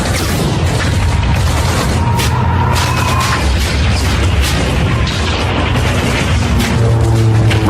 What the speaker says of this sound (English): Rocket launchers, mortars, and 85 machine gun nests tear into the Americans.